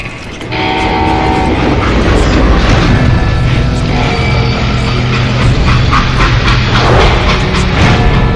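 A freight train in a Wild West shooter game rumbles loudly and continuously with rhythmic wheel clatter and a horn, close and dominant throughout.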